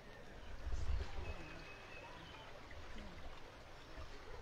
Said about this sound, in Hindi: ये सारा गंदा पानी जो है वो उस नाली का, ये सारा देखिए आप इस तरह से यहाँ पर इस नहर में जा रहा है